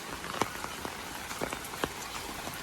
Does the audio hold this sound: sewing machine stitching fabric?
no